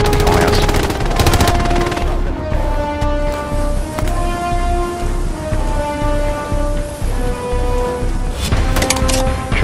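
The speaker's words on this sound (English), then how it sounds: "I'm hearing the gunshots." Rapid bursts of machine-gun and rifle fire crackle through a Hell Let Loose battle, loud and nearly continuous, mixing near and distant shots with a few faint voices.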